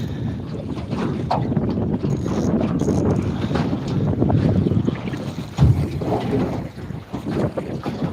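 Wind blowing on a fishing boat, loud buffeting gusts battering the microphone over a steady rush of water and sea noise, continuous throughout.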